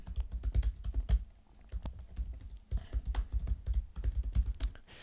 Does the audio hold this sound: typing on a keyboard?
yes